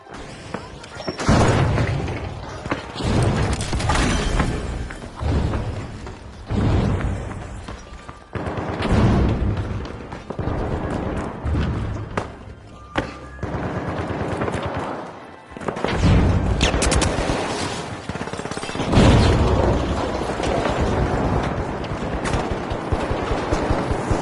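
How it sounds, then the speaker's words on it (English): A breach charge blows up amid chaotic combat in the video game The Finals, mixed into a long run of loud, close explosive bangs and bursts of gunfire with rumbling booms and crashes throughout. "Breach charge planted."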